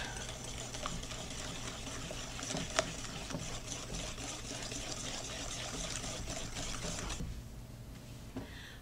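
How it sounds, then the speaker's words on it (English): Vanilla extract and salt are whisked into brownie batter in a bowl, making a continuous, fairly quiet wet scraping and churning that runs for about seven seconds, then stops, leaving only faint room noise. "We're going to whisk this again until it's all well incorporated."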